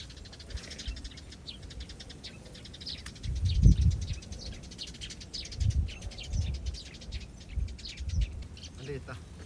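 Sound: sparrows chirping

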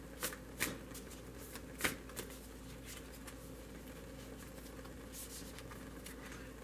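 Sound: tarot cards being shuffled and handled

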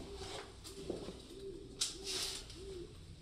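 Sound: owls calling in abandoned manor

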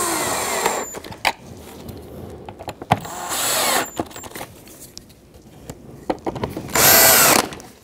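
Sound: power driver tightening airbox screws with Torx bit

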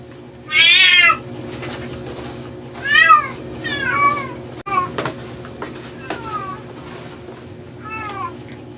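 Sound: cats meowing

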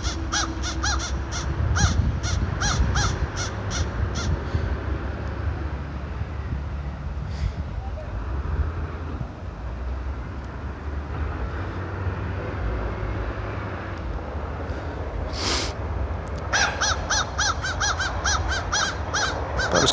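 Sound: crows cawing near a bald eagle

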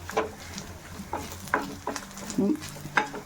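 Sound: tempering frying for yam and pumpkin curry

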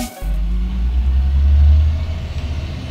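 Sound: garbage truck passing in alley

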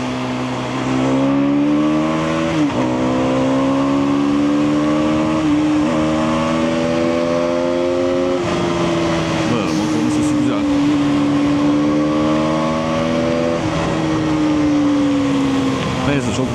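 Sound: Aprilia RS125 motorcycle engine revving

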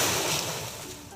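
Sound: ocean waves at the beach

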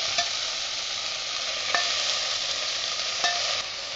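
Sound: frying curry leaves, coriander and chilli for brinjal chutney

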